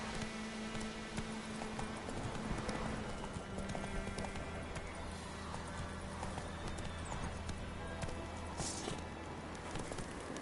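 Roach, the horse in The Witcher 3, gallops with steady rhythmic clip-clop hoofbeats, close and continuous under a game soundtrack hum, with a faint snort near the end.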